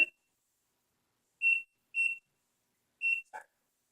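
Kitchen timer set while baking crème brûlée, giving four short high electronic beeps spaced irregularly over a few seconds, with a faint clatter after the last one and no talking.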